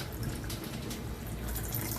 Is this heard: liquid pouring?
yes